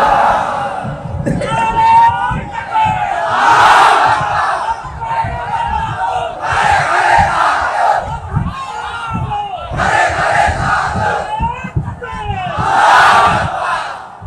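A large crowd at a Bangla Islamic sermon gathering roars Allahu Akbar in unison, four loud surging chants separated by brief pauses, answering a preacher's takbir calls.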